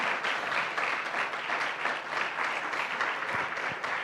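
A church congregation breaks into sustained applause during a Spanish-language sermon: a dense, steady wash of many hands clapping together for about four seconds, fairly loud and even, with no talk on top.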